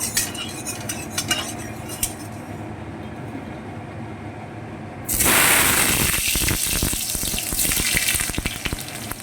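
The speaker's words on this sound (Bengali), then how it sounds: "কড়াই তেল গরম হয়ে গেছে এবার আমি আলুগুলো ভেজে নিচ্ছি" Potatoes dropped into hot mustard oil in a kadai hit with a sudden loud sizzle that stays busy and crackling, with faint stirring scrapes underneath and no talk.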